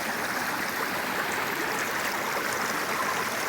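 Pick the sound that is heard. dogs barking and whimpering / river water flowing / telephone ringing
river water flowing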